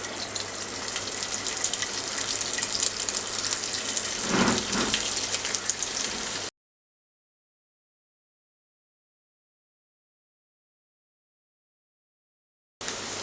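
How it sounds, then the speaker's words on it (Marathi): Maggi tikkis sizzle in hot oil in a pan, a close, steady hiss like rain that cuts off abruptly midway. Long silence follows before the sizzle briefly returns at the end. "तेल तापलेलं आहे, टिक्की घालूया तेलात।"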